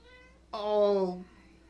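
A cat in a Star Wars Ahsoka episode gives a single clear, tonal meow lasting about a second, fairly close against a quiet background.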